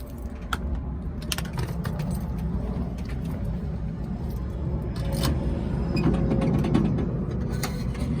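Metal keys jingle and clink in short bursts over a steady low motorized-bike engine rumble, close by, with occasional creaking.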